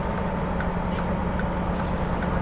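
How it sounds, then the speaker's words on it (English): Truck handbrake set in American Truck Simulator, a brief hiss of air rising over a steady, loud engine idle rumble, with faint periodic ticking underneath. "Handbrake on."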